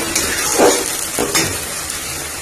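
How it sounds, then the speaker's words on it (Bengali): Onion paste fried and stirred in a pan for chana masala, with a couple of scraping spatula strokes over a soft, close sizzle and no talking. "এরপরে আমি পেস্ট করে রাখা পেঁয়াজটা দিয়ে দিলাম। এটা একটু ভালো করে কষিয়ে নেব।"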